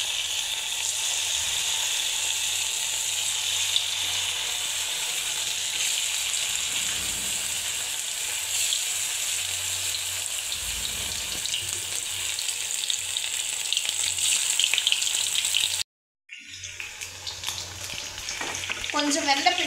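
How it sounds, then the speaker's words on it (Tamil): Marinated chicken kebab pieces deep-fry in hot oil, a loud, dense, steady bubbling sizzle lasting throughout with a brief cut near the end before the frying resumes, no voices. "இப்போ இதல போட்டு பொரிச்சு எடுத்துக்கலாம்"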